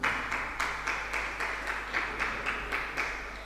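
An audience claps in a steady burst of applause during a Jain monk's sermon, the clapping rhythmic with evenly spaced swells, moderately loud and with no talk over it.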